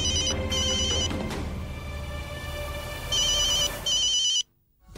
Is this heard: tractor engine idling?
no